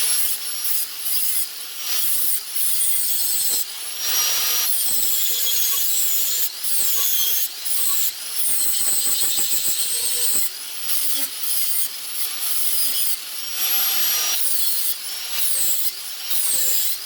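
A knife blank being profiled by hand, with a steady run of rasping file and sanding strokes that rise and pause in repeated bursts, close and fairly loud with no talk.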